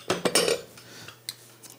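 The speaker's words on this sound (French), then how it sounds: "J'aime le bruit des casseroles." Metal pots, pans and utensils clatter and clink in a kitchen, a quick burst of loud clanks followed by a few lighter taps.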